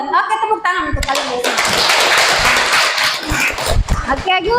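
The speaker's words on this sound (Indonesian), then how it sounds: "tepuk tangan untuk kalian." Schoolchildren clapping their hands together in a classroom after an English lesson, a burst of lively, slightly uneven clapping mixed with excited kids' voices and a teacher's talk.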